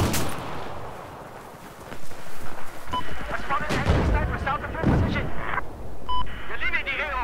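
Battlefield 4 gunfire on the Altai Range Rush map, with loud rapid shots and booming bursts over a rumbling battle. Voices talk over the shooting.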